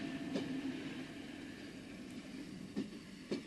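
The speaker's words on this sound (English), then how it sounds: "This train has arrived within the passing loop at a place called Speen Bridge." A train on a single-track line in the Scottish Highlands rolling slowly into the passing loop at Speen Bridge, a low steady rumble with a few faint clanks and knocks, no voices.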